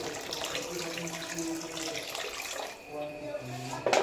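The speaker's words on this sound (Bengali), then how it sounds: "তো এবার আমি এতে খানিকটা জল দিয়ে দিচ্ছি" Water poured from a vessel into fried spice paste for Bengali shorshe ilish, a steady broadband splash and hiss running throughout, briefly dipping before a louder burst at the end.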